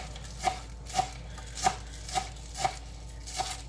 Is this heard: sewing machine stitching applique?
no